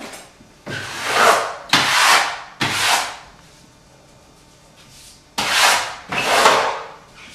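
Wallpaper being smoothed by hand down against a wall: five broad, loud brushing strokes, each about a second long, with a quiet pause between the third and fourth sweep and no talking.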